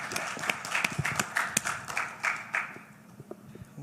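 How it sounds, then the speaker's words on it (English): Scattered hand clapping from a congress audience of anesthesia professionals in Rwanda, a loose, uneven patter of claps that thins out and fades toward the end. "a round of applause for him, please"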